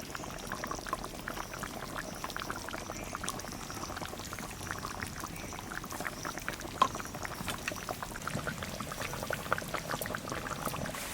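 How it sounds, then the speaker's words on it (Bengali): Raw mustard oil trickles into a simmering mustard hilsa curry, giving a soft, continuous pouring and bubbling sizzle that stays quiet and steady with no talk. "এখানে কটা কাঁচা লঙ্কা আর একটু কাঁচা সর্ষের তেল দিয়ে নামাই দেবো।"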